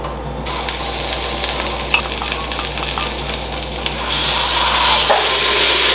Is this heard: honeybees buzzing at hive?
no